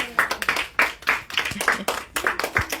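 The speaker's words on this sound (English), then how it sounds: "give Dr. Jenkins another round of applause" A small audience at a book signing in Afriware Books claps again for Dr. Jenkins. Distinct, close handclaps come in uneven bursts from only a few people rather than a large crowd.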